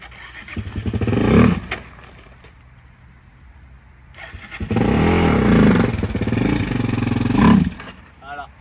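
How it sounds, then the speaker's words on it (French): A quad bike engine stutters and surges unevenly nearby, rising and dropping in bursts with a rough, hesitant running between louder revs. "il broute le quad, je vais vous montrer"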